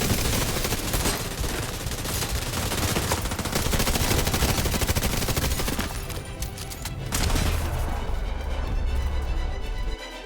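Sustained automatic gunfire from The Division 2 video game, loud continuous bursts with overlapping shots and impacts, easing briefly near the end before resuming.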